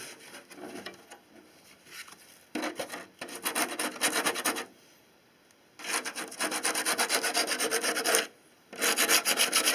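Steady rubbing strokes scuff a clear lexan RC car body with an abrasive, coming in close, raspy bursts of several seconds separated by brief pauses.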